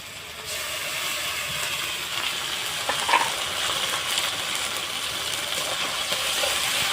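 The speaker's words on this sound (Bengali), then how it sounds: "আমি এখন রসুন বাটাটা তেলের পর দিয়ে দেবো" Garlic paste frying in hot oil in a pan for a Bengali mushroom masala, a steady broadband sizzle and crackle holding at an even level throughout, with a brief louder pop midway and no voices.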